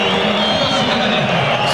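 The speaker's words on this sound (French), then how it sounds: "sous les acclamations de la foule" A stadium crowd at the UEFA Cup final between Bordeaux and Bayern Munich roars as a player is substituted, a loud, continuous wash of cheering with a commentator talking over it.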